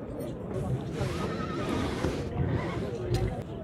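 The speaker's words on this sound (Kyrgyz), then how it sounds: "Бул чоң ат турат." A large horse neighs at a busy horse market, whinnying loudly and close against a constant backdrop of crowd chatter and people talking nearby.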